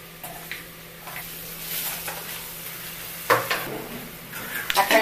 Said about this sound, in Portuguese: A carne já dourou em volta,